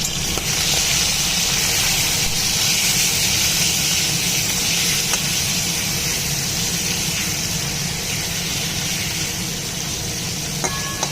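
Katla fish fat sizzles and hisses steadily in hot oil seasoned with salt and turmeric, a constant, close frying sound with occasional faint clinks and no talking.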